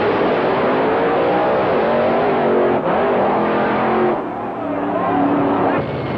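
A drag racing car charging down the strip at the Eastern Creek opening meeting, a loud close engine roar with shifting pitch and brief dips, commentary murmuring underneath.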